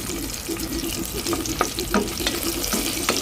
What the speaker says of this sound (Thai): จากนั้นเราก็เอา ขิงนะคะ กระเทียมแล้วก็ ต้นหอมมาผัดกันนะคะ แค่ไฟอ่อน ๆ นะคะ